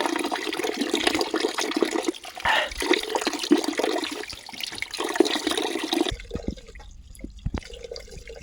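Water runs from a mountain spring on the Vellingiri hills trek near Coimbatore, a close, steady rushing flow for several seconds that then drops to faint trickles and drips.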